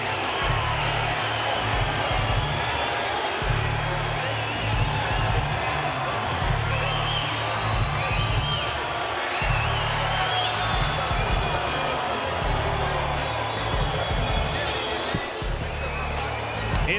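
Boxing arena crowd before a championship bout between Jermain Taylor and Bernard Hopkins, largely pro-Taylor: a dense, sustained roar of cheering with repeated low thumping pulses running throughout, loud and steady for the whole stretch.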